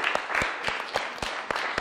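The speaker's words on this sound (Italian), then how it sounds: "al quale facciamo un applauso in assenza" An audience at an evening event applauds, a brief, dense burst of clapping with distinct sharp claps standing out from the crowd.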